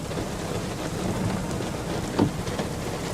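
Outdoor rain in a field during a thunderstorm, a dense, constant hiss of falling water with a faint low thunder rumble and one brief sharper crack partway through, no voices.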